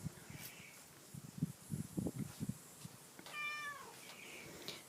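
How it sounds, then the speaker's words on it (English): A cat meows noisily on a veranda set up with Halloween decorations, a run of short, close calls followed by a longer meow, with faint rustling and no talk. "The cat's being very noisy."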